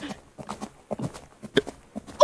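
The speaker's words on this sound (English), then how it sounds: "A horse trot, and then come to a stop." Hoofbeats of a trotting horse clip-clop in an uneven rhythm at moderate loudness, then come to a stop.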